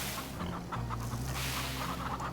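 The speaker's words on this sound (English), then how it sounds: "You can hear them all clucking." Barnvelder chickens in the farming game Farm Together cluck softly and repeatedly, a small flock heard fairly close with overlapping low clucks over a steady background hum.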